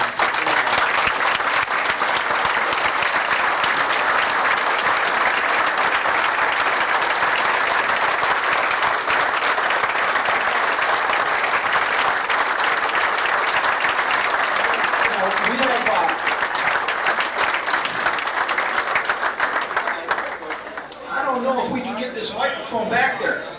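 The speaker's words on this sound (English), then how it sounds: "I'd like you all just to sort of stand and give her some applause" A retirement party audience gives a long standing ovation for a retiring guest: dense, steady clapping for about twenty seconds, thinning out near the end as voices begin talking.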